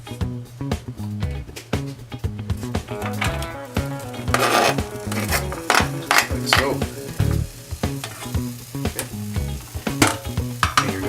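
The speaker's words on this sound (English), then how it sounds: "Once you've got a good amount of olive oil in there, you're going to put your onions into the pan." Onions frying in olive oil in a pan, a strong sizzle with frequent spatula clicks and scrapes, over steady tonal background music.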